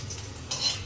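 Chili peppers fry in a pan with a close, steady sizzle that swells louder partway through, with faint stirring underneath.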